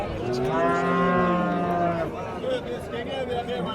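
A cow moos loudly and close by at a livestock market selling milk cows and heifers, one long harmonic call for about two seconds, then quieter market murmur continues.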